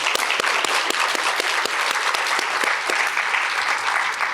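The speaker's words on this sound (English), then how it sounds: "So let's give a round of applause to all of the nominees." Audience applause for award nominees at a women's business conference, loud and sustained clapping with distinct sharp claps standing out from a thick steady wash.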